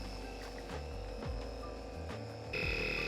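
A small electric pump inflating a floating tent hums steadily with a buzzing drone, its tone shifting and growing louder near the end.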